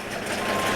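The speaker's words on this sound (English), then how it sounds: "Now this is why we leave the beeper on." Reversing beeper on a combine harvester in a cornfield, a steady electronic tone over engine rumble, heard for under a second.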